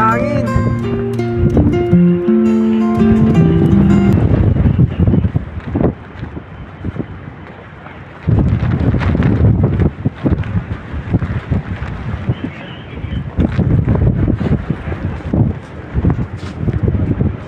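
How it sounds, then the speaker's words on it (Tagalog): Strong wind in Romania buffets the microphone with a loud, continuous roar, with people talking over it. "Lakas ng hangin."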